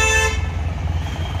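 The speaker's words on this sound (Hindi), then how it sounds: "तो यहाँ पे क्रेटा का हॉर्न लगा है" A Hyundai Creta horn fitted to a Maruti Suzuki Brezza gives a single loud, bright honk at close range, followed by the car's idling engine rumble.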